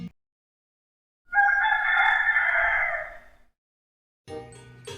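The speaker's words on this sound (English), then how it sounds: "Wow, this is a rooster." A rooster crows once, a loud, close cock-a-doodle-doo lasting about two seconds, alone against silence, with brief bits of another sound before and after.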